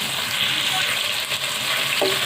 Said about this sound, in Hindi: चिकन और प्याज बहुत अच्छे से फ्राई हो गए हैं।